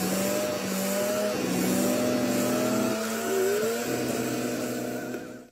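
A car engine revs and whines steadily with rising and falling pitch, tires squealing briefly, loud and close throughout before cutting off at the end.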